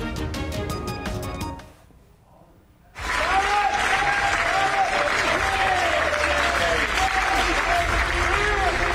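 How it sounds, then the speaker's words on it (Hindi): Thunderous applause from a large crowd greeting Rishi Sunak as the new UK prime minister, following a brief lull after music and filling the rest of the stretch as a loud, dense, sustained roar of clapping. "तालियों की ये गड़गड़ाहट"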